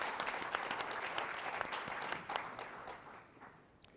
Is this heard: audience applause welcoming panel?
yes